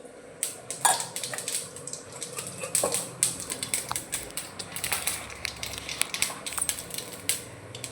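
Mustard seeds crackle and spit in hot oil in a kadai while bisibelabath is being made, a busy run of close, sharp little pops and ticks sustained throughout with no speech.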